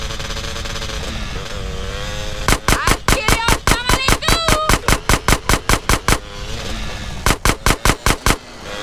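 Rapid bursts of automatic gunfire from a drive-by shootout in GTA San Andreas, loud and close, firing in a fast steady volley, pausing briefly, then resuming over a droning car engine.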